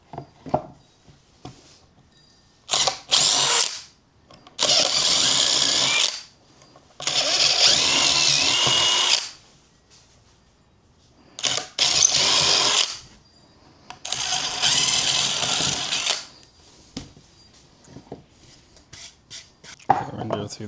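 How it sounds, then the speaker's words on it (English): A power drill bores larger holes in parts for a homemade mold press, running in several separate bursts of a few seconds each with quiet gaps and handling noise between them. "Alright, we're going to drill our larger holes."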